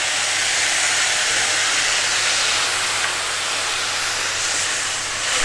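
Soy sauce added to a pan over a high gas flame with chicken cooking: a loud, steady, close sizzle filling the whole stretch without a break.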